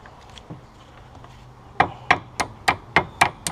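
Several sharp, evenly spaced taps drive a brake pad component into place on a Lotus Elise during a brake pad and rotor change, each knock close and distinct after a few faint earlier knocks.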